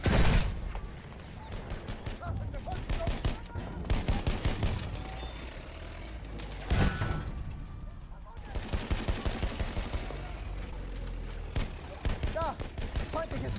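Enemy machine gun fire in the World War I shooter Battlefield 1, heard as loud, sustained rattling bursts with rapid repeated shots and battle noise, recurring through the stretch, under in-game voices.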